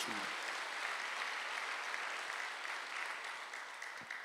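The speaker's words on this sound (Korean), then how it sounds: "박수하세요." A church congregation claps during a Sunday worship service, a dense steady wash of hand claps that holds for about four seconds at moderate distance, with a brief voice at the start and no clear speech after.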